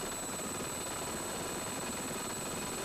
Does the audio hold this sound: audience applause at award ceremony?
no